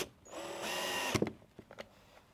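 A power drill drives screws into a wooden birdfeeder, giving one steady whirring burst of about half a second that stops with a clunk, followed by a few faint knocks and taps of wood.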